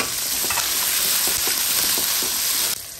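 Garlic sautéing with onions in a pan for a kala kuzhambu, a loud, steady frying sizzle with faint stirring taps that cuts off abruptly near the end.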